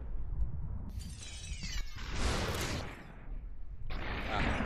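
Gunshots and shattering impacts in the slow-motion shooter game SUPERHOT, several loud bursts with crackling debris spread over a few seconds, close and dense, with no voices.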